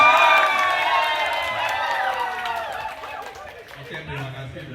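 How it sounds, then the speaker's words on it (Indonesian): Crowd at the BOC Makassar Welkom 2026 grand final in Makassar applauds and cheers for Bu Sherly, a dense, loud wash of clapping and voices that slowly fades over several seconds. "Tepuk tangan untuk Bu Sherly."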